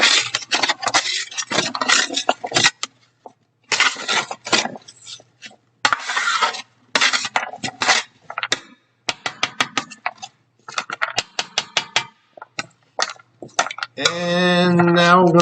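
Mirepoix browns in oil in a pot on the stove while a spoon stirs and scrapes against the metal in irregular clinks and scrapes, with short pauses between strokes.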